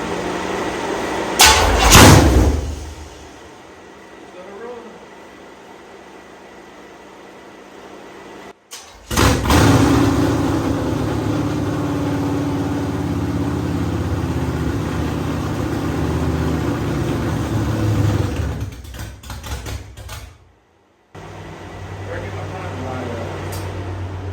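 A hot rod's big block engine cranks over after a loud start-up burst, then catches and settles into a heavy, rumbling idle that holds for several seconds before cutting off, with people talking between the bursts.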